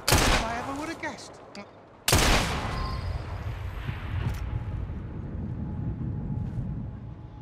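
Gunfire in the video game Assassin's Creed Syndicate: a sharp opening blast, then a second loud report about two seconds later that rolls into a long, dense rumble and reverberating tail, with a voice briefly underneath.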